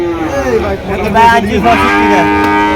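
Holstein Friesian cross cattle mooing at the Chandimura cattle market in Comilla, a loud, close, drawn-out low moo that rises and bends, then another call overlapping it, with market murmur underneath.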